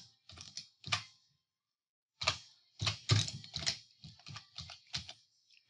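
Typing on a computer keyboard, spelling out a name in spreadsheet software: quick, close bursts of light key clicks separated by short pauses, with no talking.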